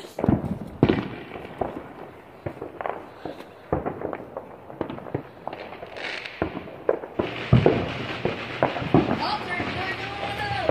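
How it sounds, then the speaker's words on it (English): Neighbours' Fourth of July fireworks pop and crackle in repeated bursts from a moderate distance, irregular sharp bangs with a crackling stretch near the end, as people talk nearby. "Nanonood lang kami sa fireworks ng mga kapitbahay."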